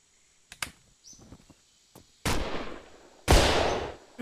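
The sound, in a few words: flashbang going off in video game The Long Drive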